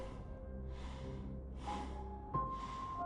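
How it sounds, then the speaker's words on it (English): Slow breathing in a quiet interior, a few drawn-out breaths recurring in an even, unhurried rhythm at moderate distance, with a faint steady tone underneath and a brief knock near the end. "Breathing. Not close,"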